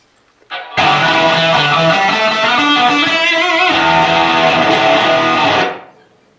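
A distorted electric guitar rings out loud through a Marshall 1987X 50-watt tube amp head turned below 2 after a short pick noise, playing a few sustained chords before cutting off.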